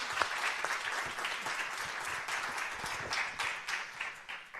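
An audience applauds after readings by three authors at a literary event, the dense clapping steady and fairly distant, filling the room without a break.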